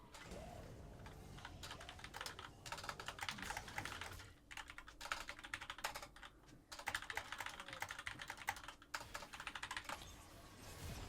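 Rapid typing clatters on a computer keyboard, with dense bursts of keystrokes broken by short pauses, close and fairly quiet with no talking.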